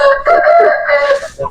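A Siyal rooster crows loud and near, a drawn-out hoarse call with a clucking break near the end, heard alone from a pet bird enclosure.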